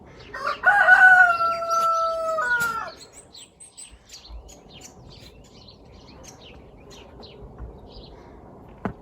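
A rooster gives one long crow up close, followed by scattered hen clucks and chirps that fade to a quiet background murmur, in a snowy farmyard.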